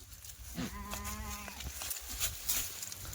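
A Kathiawari goat gives one clear bleat among a herd of goats and kids, over a constant buzz of flies and low farmyard noise.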